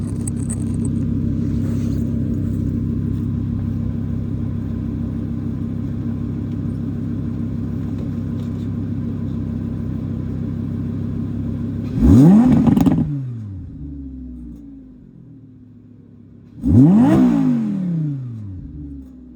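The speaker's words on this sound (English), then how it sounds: "I'm gonna rev it for you guys." An Audi R8 engine idles with a deep rumble, then is revved twice in sharp bursts that climb and fall, each rev loud and close with a quieter idle between.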